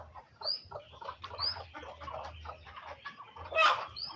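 Local chickens on a farm cluck and murmur steadily in the background, with a few higher calls standing out, fairly faint and from a short distance.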